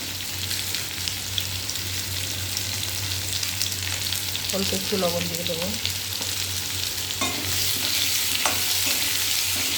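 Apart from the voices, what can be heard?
thinly cut potatoes frying in a pan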